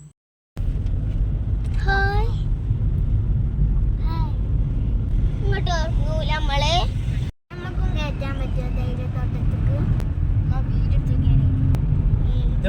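A car cruises along the road toward Munnar through tea plantation country, its steady engine and road rumble continuous throughout, with one brief dropout partway, while people talk over it in the cabin.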